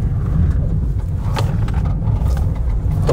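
A 2023 Toyota Agya with a three-cylinder engine driving a zigzag handling course, heard from inside as a steady loud road rumble and engine drone with faint bumps.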